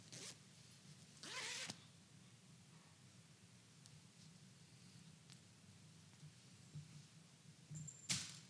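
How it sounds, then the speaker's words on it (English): A zipper on a fidget blanket runs in two quick rasping pulls, one near the start and one at the end, close and clear against a quiet room. "This is a zipper."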